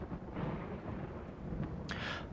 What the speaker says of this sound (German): Gut, es regnet, das ist sehr gut.